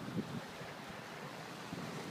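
Ocean waves and wind heard from a tower on a windy day, a faint continuous rush with soft gusts buffeting the microphone and no voices.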